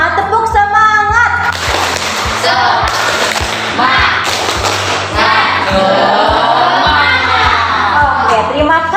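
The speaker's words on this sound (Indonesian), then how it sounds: "Tetap semangat, tepuk semangat." Indonesian schoolchildren in a class clap in a rhythmic spirit-clap pattern, a string of sharp, evenly timed claps with voices chanting and a teacher's voice joining in.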